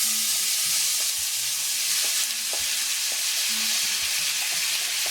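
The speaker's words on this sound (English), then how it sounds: "we're going to saute off our vegetables now" Vegetables sauteing in canola oil and butter for a Denver omelet, giving a steady loud sizzle throughout with occasional soft scrapes and taps of stirring.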